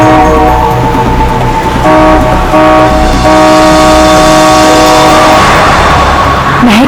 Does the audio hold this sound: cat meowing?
no